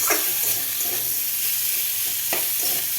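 Beans, capsicum, tomato and green chillies stir-fry in a pan, a loud continuous sizzle broken by repeated scraping stirs of the spatula, close and with no talk.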